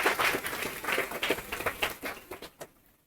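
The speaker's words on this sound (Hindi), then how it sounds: "ठोको ताली" An audience claps and applauds at a spoken event, a dense patter of many hands that stays steady and then fades out near the end.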